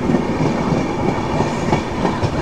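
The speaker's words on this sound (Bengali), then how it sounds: "বাগনানে এসে পৌঁছালো আমাদের ট্রেন।" The Samaleswari Express rolls into Bagnan station, with steady rumbling and faint wheel clatter heard from inside the moving train.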